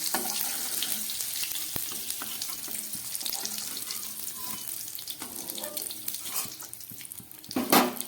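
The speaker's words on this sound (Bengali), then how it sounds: "ফুলকপিটা খুব ভালো করে ভেজে নিলাম" Cauliflower pieces frying in hot oil give a steady, close sizzling hiss with scattered small clicks, swelling into a brief louder crackle near the end.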